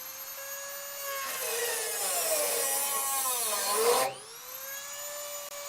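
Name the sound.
cutting out a rusted gas line on a Dodge truck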